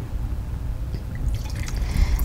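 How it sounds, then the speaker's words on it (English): Sauvignon Blanc from Novelty Hill poured into wine glasses for a tasting, a soft close trickle and splash of liquid over a low background rumble, growing slightly fuller toward the end. "So let's pour a little bit in each glass"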